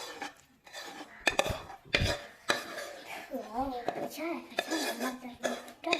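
A spoon scrapes and clinks against a pan while sweet laddoo mixture is stirred by hand, making irregular knocks and scrapes up close, interleaved with people chatting nearby.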